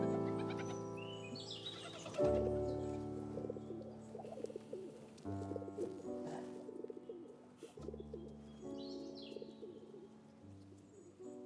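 A flock of pigeons cooing in overlapping low, throaty phrases while being fed, close by and steady throughout, with no talking.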